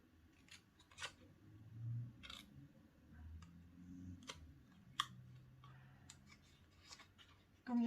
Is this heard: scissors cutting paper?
yes